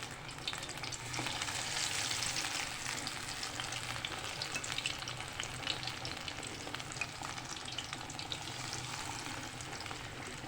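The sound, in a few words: fish frying in oil in a kadhai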